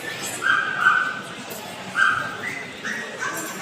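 Several dogs yip and whine at a crowded dog show, short high-pitched calls repeating close by and fairly loud.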